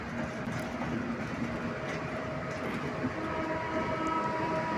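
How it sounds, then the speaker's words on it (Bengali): Rupashi Express passenger train on the Benapole to Dhaka route, a continuous heavy rumble of wheels and carriages rolling along the track with a faint sustained tone above, steady and fairly close. "ঢাকা রুটের নতুন সংযোগ রূপসী এক্সপ্রেস"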